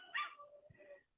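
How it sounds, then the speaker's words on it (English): Puppies give a brief, faint yip and whimper, a single short bark-like call heard from a small distance with nothing else around it. "I hear the puppies down here."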